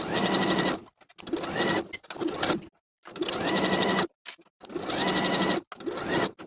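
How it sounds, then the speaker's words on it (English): A sewing machine edge stitches close to the raw edge along the hems of flowy knit pants, running in several steady bursts of loud, continuous whirring separated by short pauses, with no voices. "then edge stitching close to the raw edge along the bottom all the way around"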